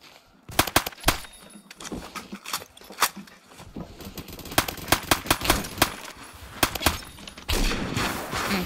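Rapid bursts of automatic gunfire from a long-magazine weapon in the shooter game Phantom Forces, loud sharp shots in clusters with short pauses, ending in a denser noisy stretch.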